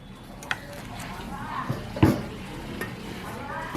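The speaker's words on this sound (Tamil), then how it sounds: "ஏதோ வடிவாக கிளறி விடுங்க." Sesame seed rice being stirred in a cooking pan, with soft scraping and a few light clinks of a utensil against the pan, fairly faint over a low background.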